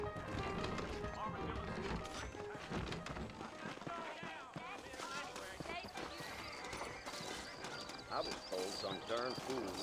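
Horse hooves clip-clop in Red Dead Redemption, a steady rhythmic clatter mixed with game music, knocks and other effects, while characters talk over the top for most of the stretch.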